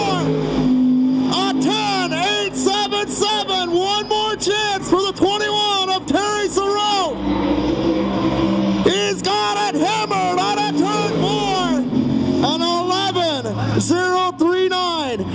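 A sprint car roars out of turn four at Kalamazoo Speedway during a track record attempt, its engine note rising and falling in repeated loud surges while an announcer talks over it nearly throughout.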